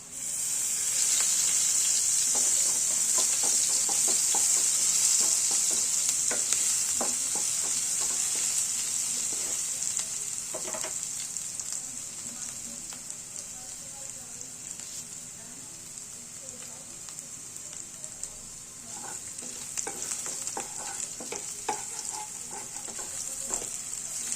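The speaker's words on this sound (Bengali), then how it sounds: "আদাটা পেঁয়াজের মধ্যে দিয়ে ভেজে নেবো" Ginger and onion frying in a pan for vegetable chow mein, a loud steady bright sizzle throughout with scattered clicks of stirring, and a voice speaking faintly under it at times.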